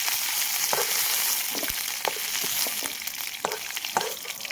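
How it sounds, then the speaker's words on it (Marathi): Vegetables sizzle steadily in a hot pan for a home-style bhaji, a continuous bright crackle with occasional sharper pops and spatters, close and fairly loud with no voices. "थोडेसे फ्राय करून घ्यायचे बरं का"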